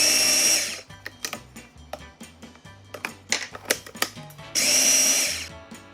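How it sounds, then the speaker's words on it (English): Cuisinart food processor pulsing pie crust dough with salt, loud whirring bursts at the start and end separated by rapid clattering knocks of the blade churning the dough. "I like to just kind of pulse it a little bit and start getting it mixed together"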